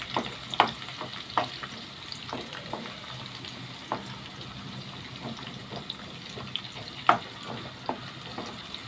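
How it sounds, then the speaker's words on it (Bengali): Onion fries in a pan ahead of fish going in, a steady low sizzle running throughout, marked by occasional sharp clinks and scrapes of stirring, with no talk. "পেঁয়াজটা একটু ভেজে ভেজে নেবো বন্ধুরা।"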